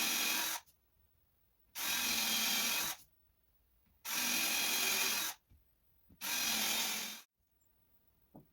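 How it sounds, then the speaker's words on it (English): A power drill whines through wood while fitting an entry door on a barn, in four separate bursts, each about a second long, with short quiet pauses between them, close and steady. "I'm going to drill it out and maybe even chisel a little bit."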